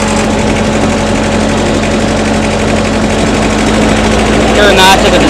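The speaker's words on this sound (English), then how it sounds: "Now to rev up the engine" McCloskey ST80 stacker engine from 2014, revving: a steady, loud, low diesel drone with a strong rumble that holds level throughout, rising slightly near the end.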